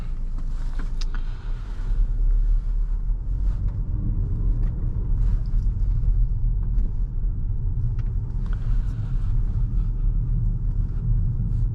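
A 2024 VW Tiguan Highline R-Line SUV with a 2-liter TSI engine drives on the road, heard from inside as a steady low rumble of engine and road noise, with no speech.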